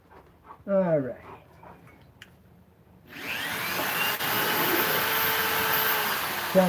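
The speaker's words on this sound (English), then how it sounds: "So I'm drilling to the tape." After a few faint sounds and a short yelp-like noise, a power drill starts up and whirs steadily into wood, close and continuous.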